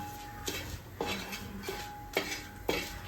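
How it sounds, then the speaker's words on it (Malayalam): A spoon stirs sun-dried bilimbi pickle in a metal container, giving about five sharp clinks and scrapes at uneven intervals over a quiet hiss, close up and with no talking. "ഇനി നല്ലപോലെ ഇളക്കി കൊടുക്കണം"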